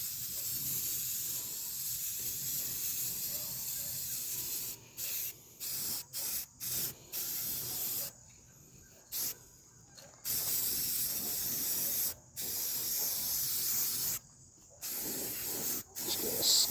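Enamel spray paint hisses from an aerosol can in a garage working on a 1966 Chevrolet C10 truck, with long sustained bursts and short puffs separated by brief pauses, loud and close.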